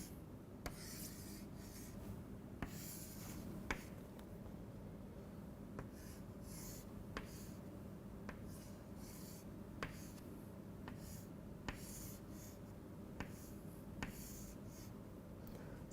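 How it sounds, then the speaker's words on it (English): A pen draws a transistor schematic by hand, a soft close scratching and rubbing on paper with small taps at irregular intervals, steady and quiet throughout. "So, let me draw the schematic."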